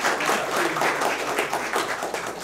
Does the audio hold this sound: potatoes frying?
no